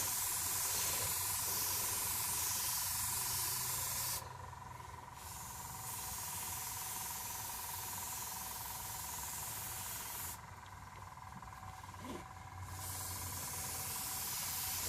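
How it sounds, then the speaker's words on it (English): An airbrush sprays paint onto model tank tracks in a steady, close, airy hiss that cuts out briefly twice before resuming, with no talking over it. "Once you get the hang of airbrushing, it's pretty addictive."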